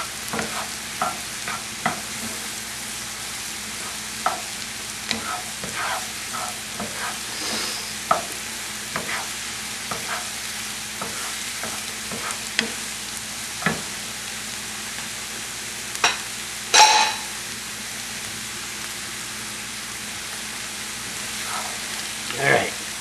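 Mushrooms and onions fry in oil in a pan with a constant soft sizzle. Scattered clicks and scrapes from stirring come through, and one louder clatter sounds near the end.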